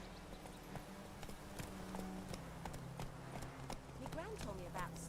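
Roach, the horse in The Witcher 3 video game, gallops with steady rapid clip-clop hoofbeats under game ambience, ending with a brief whinny-like sound.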